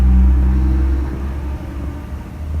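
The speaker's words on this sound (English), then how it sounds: "you hear the truck?" A truck rumbles past outside: a deep, low engine drone heard indoors, loudest at first and then easing off while staying a steady background rumble, with no talk over it.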